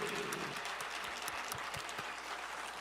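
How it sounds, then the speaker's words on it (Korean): Church congregation at a Parents' Day service applauding, a steady dense wash of clapping from many hands throughout, fairly distant and even in loudness, with a few sharper claps standing out. "박수라도 쳐드립시다"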